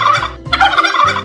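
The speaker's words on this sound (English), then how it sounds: "Turkey." A turkey gobbles loudly and close up in one rapid, warbling burst that fills the brief moment.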